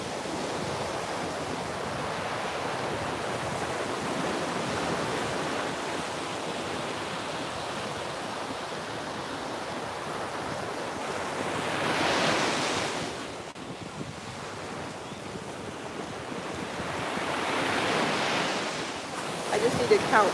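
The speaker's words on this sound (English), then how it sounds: "The waves are extra loud today and they're amazing." Loud ocean waves breaking on a shore, a continuous roaring wash with swells that surge around the middle and again near the end, mixed with wind buffeting the microphone.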